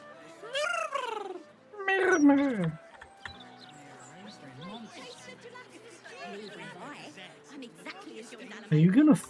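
Cat creature meowing and chattering in a video game set in a Lower City, several rising and falling feline calls that are loud at the start and end, with quieter game ambience between them.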